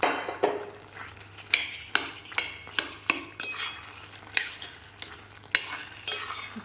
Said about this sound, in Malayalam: ഇട്ട് കൊടുത്ത് നന്നായിട്ടൊന്ന് ഇളക്കിയിട്ട്